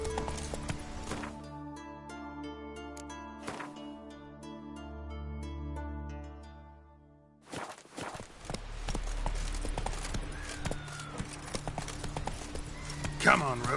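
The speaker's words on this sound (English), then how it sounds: "Come on, Roach." Roach, a horse in The Witcher 3 video game, moving on rhythmic clip-clopping hooves beneath game music and voices. A quieter stretch comes first, then a louder, busier passage of hoofbeats.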